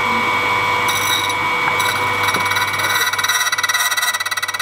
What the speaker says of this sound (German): Einmal bohren.